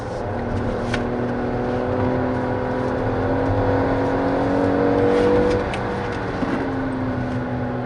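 A Hyundai Grandeur (sixth generation) car engine hums close by and climbs gradually in pitch as it accelerates toward a 6500 rpm redline, then eases off toward the end.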